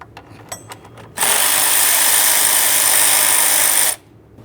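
A power tool drives out the last mounting bolt on the timing belt cover of a 2007-2013 Acura MDX, a loud steady whir lasting about three seconds after a few faint clicks, then stopping abruptly.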